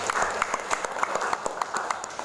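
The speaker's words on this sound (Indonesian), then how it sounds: "Tepuk tangan dulu." An audience at a sub-district government event in Garawangi claps after an award announcement. The applause is fairly quiet with distinct individual claps popping out of the steady patter.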